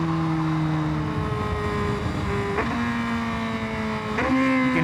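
A Honda CBR1000RR-R motorcycle revs up through its gears. The engine whine climbs, then drops sharply at each of two distinct shifts, with no talk over it.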